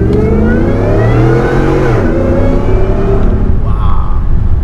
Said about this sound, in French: Oh, le bruit du superchargeur, c'est magnifique.